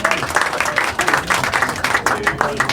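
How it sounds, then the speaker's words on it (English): A live audience at a podcast show recorded at the Piping Live festival claps and cheers in a short, dense burst of applause with voices rising through it. "Give me another cheer, please."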